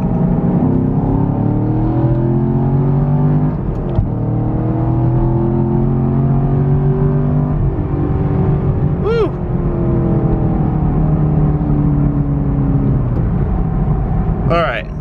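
A 50th Anniversary Chevrolet Camaro SS with a manual shifter pulls hard under acceleration, its loud engine note climbing steadily and dipping briefly at gear changes around four and eight seconds, heard close from inside the cabin.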